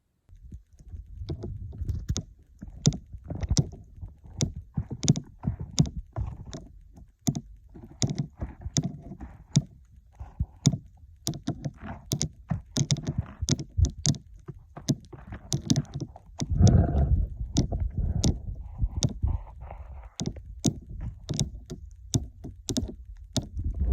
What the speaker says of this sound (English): Tungsten has a much louder clicking sound.